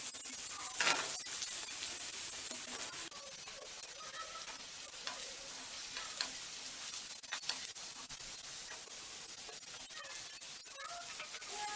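Mushrooms frying in a pan for a Tamil mushroom curry, a steady hiss of sizzling with spoon scrapes and stirring knocks throughout, close and continuous with no talk.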